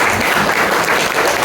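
Audience applause at the opening of a regional religious affairs working meeting in Purbalingga, Indonesia: dense, steady clapping from a crowd filling the whole moment, loud and close, with no talk over it.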